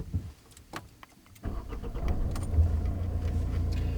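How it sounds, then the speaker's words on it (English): A car engine is started during a driving lesson for a turn-in-the-road manoeuvre: a few soft clicks and key sounds, then the engine cranks and catches into a steady, close idle rumble. "if you'd like to start the engine for me"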